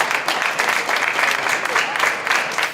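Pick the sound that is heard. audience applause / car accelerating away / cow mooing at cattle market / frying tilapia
audience applause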